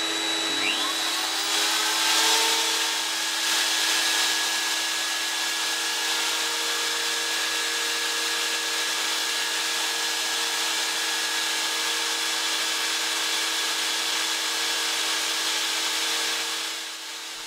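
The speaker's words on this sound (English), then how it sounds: "I move the wheel backwards and forwards across the diamond" A continuous loud mechanical drone with a high steady whine, a grinding wheel being dressed against a diamond, moved back and forth, running without pause before tapering near the end.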